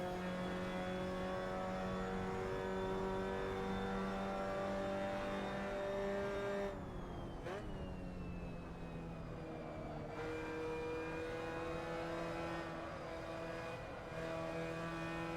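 Mazda MX5 race car engine in a sim racing game at Slovakiaring, a sustained droning whine that holds steady, drops sharply as the driver shifts around six to seven seconds, then climbs again under acceleration, with no talk.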